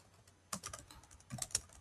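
Quick bursts of keystrokes on a computer keyboard while text is entered into a web page editor, two short clusters of close, fairly quiet clicks with a pause between, no voices.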